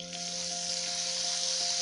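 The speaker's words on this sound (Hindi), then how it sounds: "गर्म होने पर हम इसमें बटर डालेंगे तवे पर और बटर को अच्छे से इस पर पिघलने देंगे" Butter melting on a hot tawa griddle gives a steady, even sizzle that holds at moderate volume throughout, with no voices over it.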